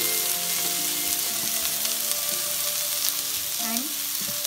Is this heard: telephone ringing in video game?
no